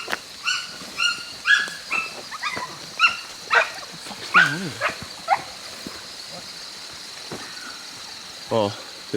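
Hunting dogs chasing a boar bark in sharp repeated bursts and yips, some close and some farther off, with a few whimpering calls between them out on river flats.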